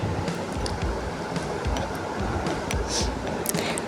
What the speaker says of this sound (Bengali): এবার এই ঝুরঝুরে ডালের ভেতরে দিয়ে দিচ্ছি আমি জল।